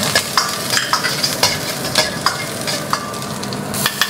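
Ginger paste frying in a little oil in a hot wok, a bright continuous sizzle broken by frequent metallic spatula clinks and scrapes in a quick uneven rhythm, close and loud.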